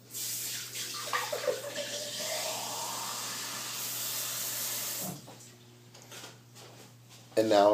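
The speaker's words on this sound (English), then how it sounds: "now I'm just going to add water till it's right at the top of it" Water runs from a faucet into a pot of pork seasoned with cumin and seasoning salt with half a medium onion for carnitas, a steady rushing stream for about five seconds, then stopping, with a voice speaking at the end.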